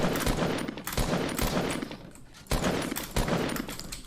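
Fortnite gunfire hammers at a player's metal build, bursts of rapid shots in two clusters separated by a short gap, sharp and fairly close.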